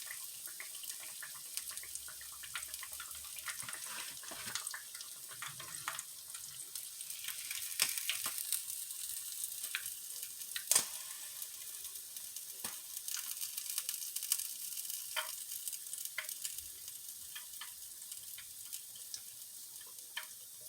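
Southern-style fish frying crispy and golden in hot grease gives a steady, dense, close-up sizzle, peppered with sharp crackles and occasional louder pops across the whole stretch, with no voices.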